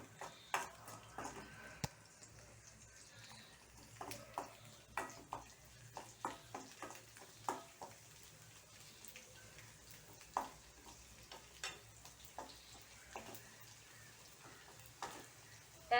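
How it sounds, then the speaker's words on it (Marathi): Garlic fries gently in oil as a faint, scattered crackle with irregular small pops and ticks, kept quiet and steady throughout. "तर आपल्याला तेलात परतायचं आहे फक्त लसूण."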